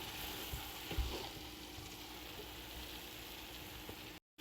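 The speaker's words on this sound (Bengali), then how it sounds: "এখন একটু ঘি দিয়ে দিব।" Ghee goes into a pot of nearly cooked chicken biryani and sets off a steady, soft sizzle, with a few light knocks near the start and an abrupt cut just before the end.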